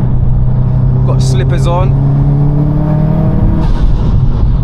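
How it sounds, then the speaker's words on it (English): A 605bhp 2014 Subaru WRX STI engine holds a steady, droning note that climbs near the end, heard from inside the car beneath continuous close talk. "Man, it's one of the best sounding cars I've heard."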